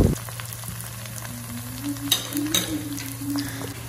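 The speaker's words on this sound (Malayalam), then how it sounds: "ഇനി ഞങ്ങൾക്ക് ഓരോ കോളിഫ്ലവറും ഇതിലേക്ക് ചേർത്ത് നന്നായിട്ട് 2 സൈഡും ഫ്രൈ ചെയ്തെടുക്കാം" Marinated cauliflower pieces frying in hot oil, a steady close sizzle with light crackles and occasional pops, continuous throughout with no talk.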